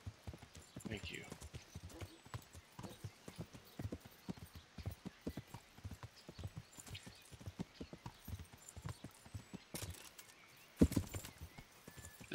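Horse hooves clip-clop in a steady walking rhythm in the medieval game Kingdom Come: Deliverance, close and moderately loud, with a brief whinny-like burst near the end and someone talking over the sound.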